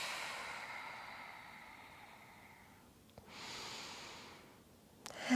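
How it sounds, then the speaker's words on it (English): Slow, audible breathing during a yoga psoas stretch: a long airy exhale fading out, a brief pause, then a steady inhale, heard close and quiet with no talk. "And then breathing"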